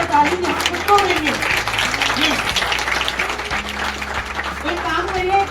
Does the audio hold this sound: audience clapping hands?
yes